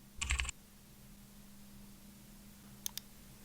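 Computer keys are struck in a quick cluster of soft clicks, then a brief silence with a faint steady hum, and two more isolated clicks near the end, quiet and close.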